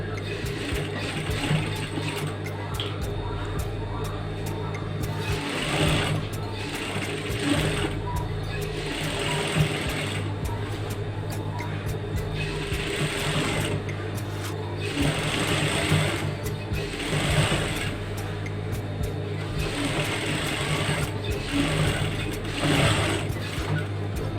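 A sewing machine topstitches along vertical fabric stripes for an A-line skirt, running in a fast mechanical whir with ratcheting clatter in repeated bursts and short pauses, while a voice talks over it.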